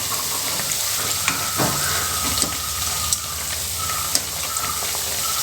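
Avil vada, fritters of flattened rice, frying in hot oil as they are flipped, a steady close sizzle broken by a few soft clinks and bubbling bursts, with no voices.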